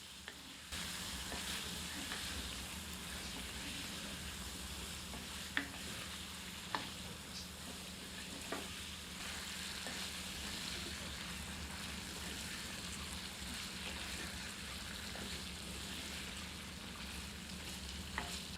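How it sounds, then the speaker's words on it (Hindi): Chicken sizzles steadily in a hot pan with a tablespoon of Kashmiri chilli for Nagpur-style Saoji chicken, a continuous frying hiss with a few sharp spatula clicks, moderately close and without talk. "इसे चिकन में मिलाकर 2 से 3 मिनट भूनते हैं।"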